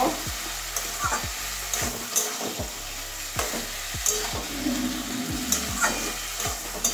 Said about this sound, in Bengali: ঝিঙেটা দিয়ে দিচ্ছি। এবারে 2-3 মিনিট ভালো করে কষিয়ে নেব।